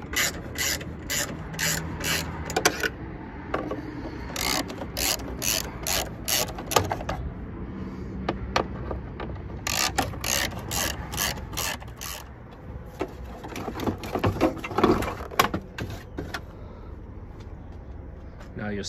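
Ratchet wrench with a T30 socket and long extension working fasteners off a Porsche 991 GT3 to reach the side mufflers, steady bursts of rapid close clicking that pause and resume throughout, with a voice speaking over parts.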